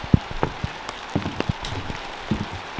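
Rain falls during a storm, with scattered raindrops tapping sharply and irregularly on a nearby surface against a quiet background.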